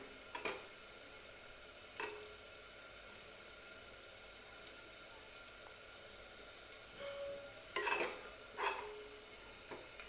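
Grated coconut dry-roasting in a pan on low heat, stirred now and then, gives a faint quiet hiss broken by scattered spatula scrapes and taps, a few clustered near the end.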